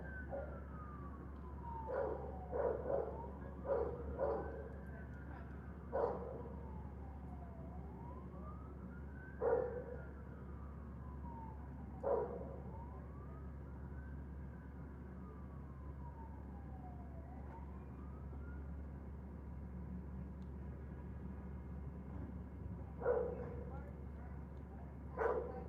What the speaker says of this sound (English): Hearing dogs barking.